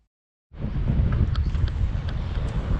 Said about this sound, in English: we're very windy today